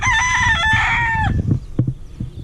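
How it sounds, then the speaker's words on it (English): An Icelandic rooster crows loudly and close by, one long drawn-out call that breaks off, followed by a few soft clucks. "There's one of the Icelandic roosters there."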